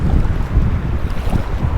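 Strong wind gusting across the microphone at a fishing spot by deep water, a loud, steady low rumble with buffeting pulses and no voices.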